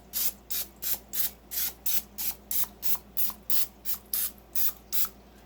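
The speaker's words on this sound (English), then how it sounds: "I have a thrifted clear, I call it casserole dish, baking dish, and I'm going to spray it." Cooking spray spritzed into a clear glass baking dish in about a dozen short, evenly spaced hissing bursts, close and steady with nothing else heard.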